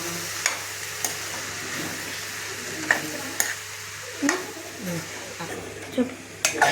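Mushroom curry being stirred in a pan with turmeric, ginger paste, tomato and onion, soft sizzling throughout with repeated light spoon taps and scrapes against the pan, close by, with a voice speaking faintly at times.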